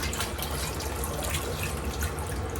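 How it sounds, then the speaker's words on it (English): Napa cabbage is moved in and out of an ice water bath and strained in a colander, giving steady splashing and running water close by with no talk. "but you're actually moving it in and out of this ice water bath."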